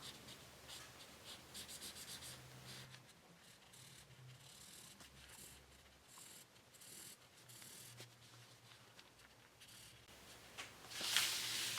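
Crayon or colored pencil rubbing across paper while coloring a Valentine's Day pizza drawing, a soft continuous scratchy scrape with short pauses as the paper is turned, close and quiet with no talk.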